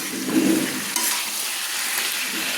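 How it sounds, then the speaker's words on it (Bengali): Fried potatoes being stirred into a papaya curry in a pan, a soft scraping stir with a brief sizzle early on, then steady low frying hiss throughout, close and alone. "তো আমি ভালো করে নেড়ে নিচ্ছি।"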